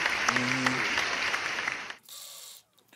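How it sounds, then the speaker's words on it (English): Dense applause at steady volume for about two seconds, with a brief tonal sound early on, then a quieter hissy stretch before it cuts off. "give a round of applause for the scouting"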